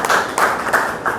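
A short burst of clapping for a man named Rao Ram at a business gathering, loud and close, rising and falling in quick surges with no voices over it.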